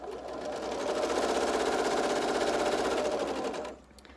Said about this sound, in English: I'm going to sew 1 black square to 1 pink square with a 1/4 inch seam allowance